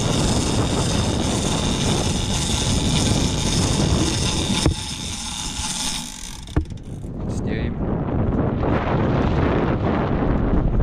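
Strong wind roars across a fishing boat out at sea during a yellowfin tuna trip, a steady loud broadband rush with a couple of sharp knocks and a brief lull midway.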